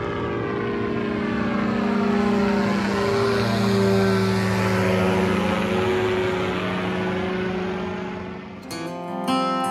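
A camera drone flies overhead in northern Pakistan, its steady propeller whine droning loudly and evenly for several seconds before cutting off abruptly, with no talking.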